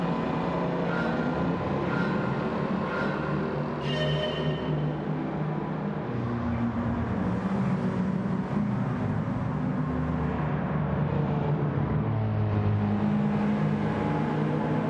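A vintage 1969 De Tomaso Mangusta's engine in a racing video game, a steady loud drone with shifting pitch that runs throughout without pause.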